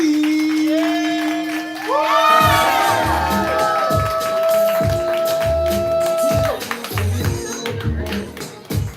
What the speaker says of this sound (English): We clapping, we building energy, make some noise for D.